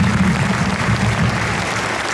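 Audience applause for performers at a fortieth-anniversary celebration of a Polish rural commune, a dense, steady wash of many hands clapping close by, sustained and even throughout.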